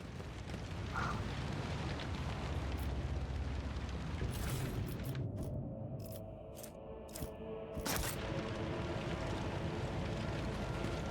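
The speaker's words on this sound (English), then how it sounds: "everything kind of exploded" A deep explosion rumbles in a video game, a broad roaring burst that fades into a crackling, sputtering tail with sharp pops, loud and sustained across the whole stretch with no talking.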